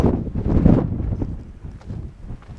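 Gusty wind buffets a microphone close up, a loud rumbling roar that swells early and then eases into steadier, lower blustering.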